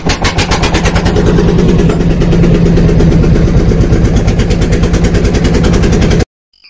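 A river trawler's engine chugs loud and close in rapid, regular diesel thumps that hold a steady rhythm for several seconds before cutting off abruptly.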